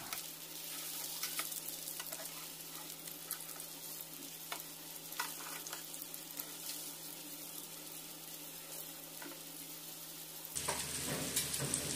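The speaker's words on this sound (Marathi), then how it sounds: "दोन्ही साईडनी गोल्डन ब्राऊन कलर येईपर्यंत सुरमई फ्राय करून घ्या." Surmai (kingfish) slices frying in a pan, a steady crackling sizzle with scattered pops and spatters, growing louder and fuller in the last second or so.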